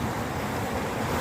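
A steady rush of flowing water from the River Char at Charmouth babbles continuously, broad and noisy, with some wind buffeting the microphone.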